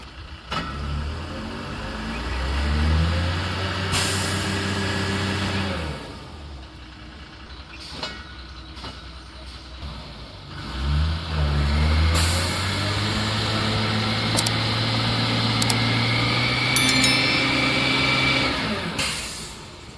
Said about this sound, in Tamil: சேத்துல மாட்டிக்கிட்டு சேடை ஓட்டிகிட்டு இருக்காங்க